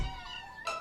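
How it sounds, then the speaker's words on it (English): Kittens in a children's cartoon give a brief pair of high, clear meows, close and alone. "These kittens are in good hands with me."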